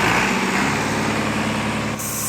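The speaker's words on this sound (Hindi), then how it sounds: "ट्रैक्टर अभी फंस चुका है, ट्राली तो नहीं निकली।" A tractor stuck while trying to pull out a trolley runs its engine hard: a loud, close, continuous rumbling drone with no pauses and no voices.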